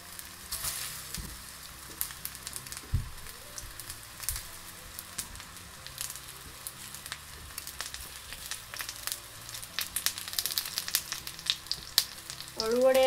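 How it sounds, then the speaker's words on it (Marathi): Alu vadi, colocasia leaf rolls, shallow frying in oil in a pan, a steady crackling sizzle with scattered pops and a few stirring scrapes, growing louder toward the end. "त्याच्यामध्ये आपण आता एक अशा शॅलो फ्राय करणार आहोत"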